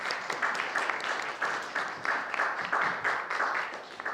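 An audience at a youth anti-smoking policy research club presentation contest applauds the top-prize high school team, moderately loud clapping in rhythmic surges that carries on throughout.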